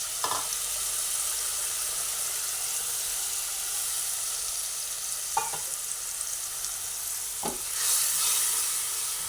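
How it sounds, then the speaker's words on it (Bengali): Okra curry with gram flour batter bubbles and hisses steadily in a pan, broken by a few isolated spoon or spatula knocks. "ভালোভাবে এবারে নাড়াচাড়া করে নিই"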